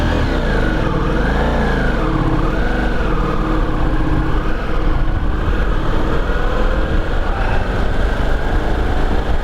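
A Ducati Multistrada V4S motorcycle strains to pull away in sixth gear, its engine loud and close, with pitch wavering up and down as the revs surge and sag throughout and no speech.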